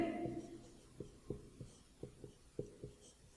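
Pen notes are written during a chemistry lesson, with a series of soft, close taps and scratches spaced about every quarter to half second against a quiet room.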